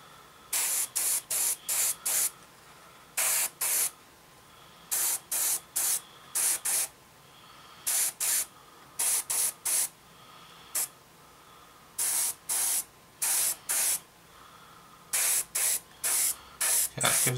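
An airbrush sprays a base coat onto a Hasegawa 1/48 Messerschmitt Bf 109E-3 scale model, a series of short sharp hissing bursts in irregular rhythm, close and clear with quiet pauses between.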